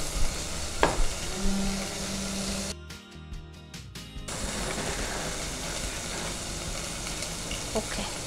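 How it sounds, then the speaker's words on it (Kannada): White chicken shallow-frying in a pan gives a steady, close crackling sizzle that carries on throughout, with a brief dip partway through and a faint voice now and then. "ಇದು ಕೂಡ ಫ್ರೈ ಆಗ್ತಾ ಬರ್ತಾ ಇದೆ"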